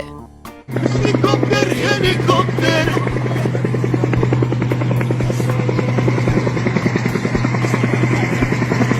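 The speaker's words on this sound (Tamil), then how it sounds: "சீலிங் ஃபேன் என்ன ட்ரோன் மாதிரி சுற்றிக்கிட்டு இருக்கு" A ceiling fan at a Teachers' Day function spinning fast like a drone, giving a loud, close, continuous whirring drone with a rapid rotor-like chop that starts abruptly and carries on without speech.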